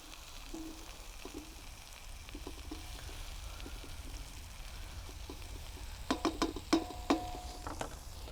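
Mushrooms and onions sizzling gently with sausage meat in a pan in a caravan kitchen, with soft scraping stirs and a burst of sharper clacks of a utensil near the end.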